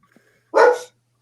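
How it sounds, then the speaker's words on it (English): A single sharp dog bark, loud and close, one short burst in an otherwise quiet room. "Can you hear my dog?"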